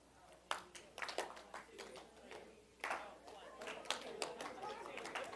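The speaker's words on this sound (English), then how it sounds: "Now, I want you to clap for 1." An audience claps in scattered, uneven bursts to a count during an executive presentation workshop, with voices chattering between the claps.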